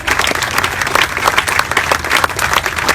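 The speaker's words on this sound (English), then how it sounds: "I would like to have a special round of applause for Don Berry for his leadership" Steady, loud applause from a crowd at a library groundbreaking ceremony, dense clapping filling the whole stretch without a break.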